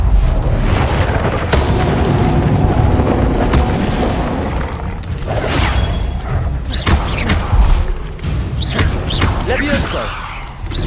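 Incendio fire spell cast repeatedly in Hogwarts Legacy, producing heavy booming thumps and whooshing bursts amid other spell effects, with a voice speaking over the combat.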